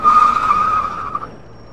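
A fire engine truck in a driving simulator game skidding, a loud, steady tire squeal that holds for about a second, then fades out under low engine rumble.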